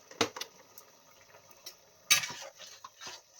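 A spoon clinks sharply against a pan a few times while stirring poppy seed curry seasoned with turmeric and Kashmiri chilli powder, with soft scraping and quiet bubbling between the knocks.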